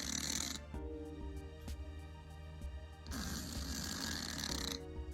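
A cat snoring softly with slow, rhythmic breaths in a quiet room, each drawn-out rasp fading before the next, heard up close and alone.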